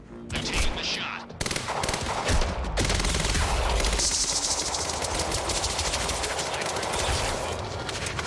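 Gunfire from the video game Quantum Break: a dense burst of shots clusters in the opening seconds, then gives way to a sustained loud wash of in-game noise with a faint voice underneath.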